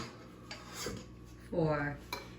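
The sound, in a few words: mixing bowl being taken out and set down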